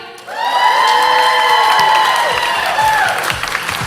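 Audience at the Miss Teenage Canada 2023 pageant erupts into loud cheering, high-pitched whoops and screams over clapping, sustained for several seconds before easing slightly.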